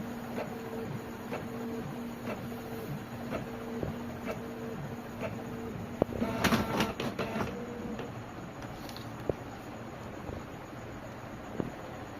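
A Canon inkjet printer with an ink problem runs after a restart, whirring and ticking with repeated small mechanical clicks and a brief busier clattering burst midway, steady and close with no talking.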